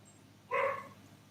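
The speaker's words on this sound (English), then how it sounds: "A dog is having a panic." A single short, faint dog bark or yelp sounds at a distance over a low steady background hum, brief and isolated with no talk.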